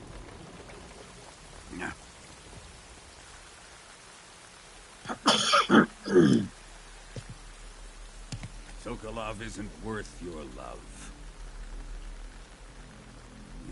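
Steady soft rain falls throughout a scene in the video game Metal Gear Solid 3 Delta, a faint continuous patter beneath a man's speech and a sudden loud rustling burst midway.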